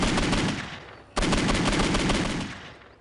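Rapid automatic gunfire in a video game comes in two loud, sustained bursts separated by a brief pause, with no talking.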